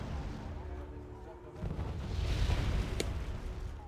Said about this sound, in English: There's artillery going off